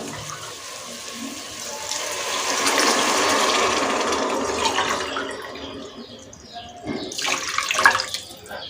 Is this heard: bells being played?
no